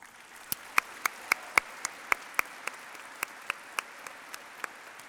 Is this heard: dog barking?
no